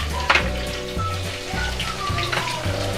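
Chopped onions hitting hot oil with mustard seeds during Telugu bread upma cooking, a steady crackling sizzle with a few sharper pops, close and continuous throughout.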